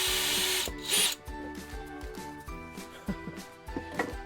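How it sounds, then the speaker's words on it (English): A power drill with a large bit whirs in repeated short bursts while fitting campervan ceiling cladding, starting and stopping with a steady rhythm, close and fairly loud, with a brief louder burst early on. "I'm just using a bigger drill bit."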